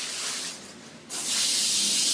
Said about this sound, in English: get some airbrush cleaner into the well, and I'm going to spray it into my bag here.